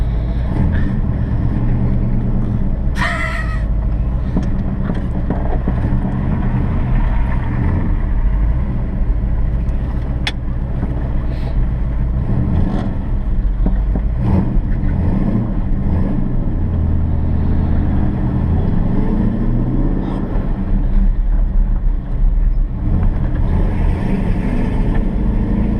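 A 396 big block Chevy car drives along with a loud, continuous, rumbling engine roar that stays strong and steady throughout, punctuated by occasional brief clanks and rattles.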